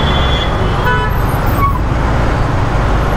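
Dense road traffic in a jam, heard from a motorcycle, a loud continuous roar of engines with several short car horn toots near the start and middle.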